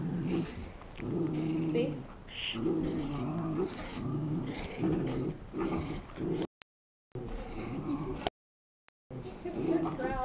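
Low, rumbling animal growls continue under close talking, steady and throaty, with brief cuts of silence near the end.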